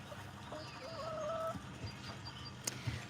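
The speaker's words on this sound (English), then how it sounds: "But this is what a broody hen looks like." A broody hen clucks angrily, puffed up in the shade, with several low, irregular clucks and scattered bird calls close by over a steady farmyard background.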